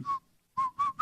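A person attempts to whistle, producing short wavering tones in separate bursts: one brief note, a pause, then three quick notes in succession, close and fairly faint.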